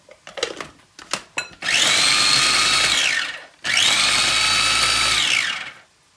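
A few clicks and knocks, then a motorized chopper whirs twice in loud, sustained bursts of a few seconds each, chopping chillies close by.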